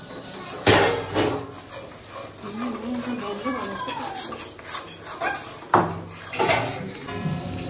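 Chicken pieces being stir-fried in a pot for a Bengali curry, with a spoon scraping and clanking against the metal over a low sizzle, while a person talks throughout.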